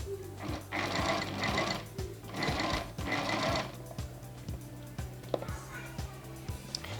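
A sewing machine stitches the lower part of a slant trouser pocket, its needle thumping in a steady, even rhythm at close range, speeding up in two louder runs before settling into a quieter, regular pace.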